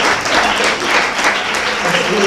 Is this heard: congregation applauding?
yes